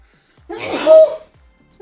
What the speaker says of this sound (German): Gesundheit.